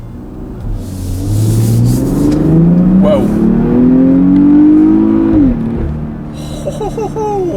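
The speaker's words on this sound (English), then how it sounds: "let's do a quick little acceleration since this car does have 440 horsepower, 443 pound-feet of torque" A 2016 Porsche Cayenne GTS SUV with 440 horsepower accelerates hard, its engine note climbing loudly through a long rising pull, then dropping at a shift; a person exclaims over the engine.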